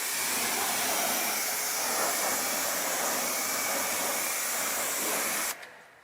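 A steady, loud rush of pressurized water rinses down the PT Bruiser at a car wash in snowy weather, a dense continuous hiss that holds for several seconds and then cuts off abruptly near the end.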